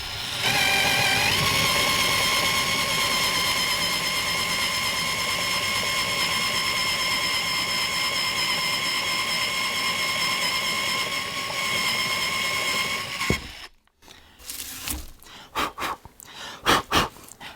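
A Festool drill turns a ZOBO Forstner bit through wood, giving a steady, loud, high whine that runs unbroken for about thirteen seconds before stopping abruptly, followed by a few short knocks and handling sounds.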